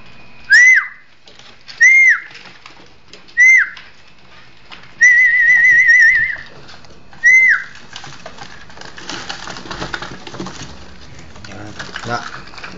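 Pigeons at a hotel loft coo and whistle in several distinct calls, one drawn-out, close and fairly loud, then fade into a rustling, pattering background while people talk.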